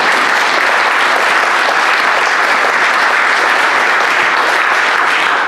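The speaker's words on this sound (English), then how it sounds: "I would like to have a little round of applause" Loud, dense applause from a conference audience at an opening session, steady and sustained throughout with no speech over it, cutting off abruptly at the end.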